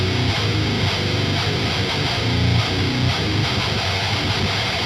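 Heavily distorted downtuned electric guitar with a filtered octave-down signal blended underneath, adding deep low end to a steady, loud chugging riff that runs without pause or speech.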